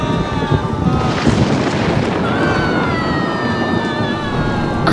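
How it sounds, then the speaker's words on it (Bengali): Thunder crashes repeatedly over a house during a storm in a Bengali horror audio drama, a heavy, loud rumble mixed with rushing wind and rain, with faint sustained tones running through. "বাড়ির উপর বারবার বাজ পড়তে লাগলো।"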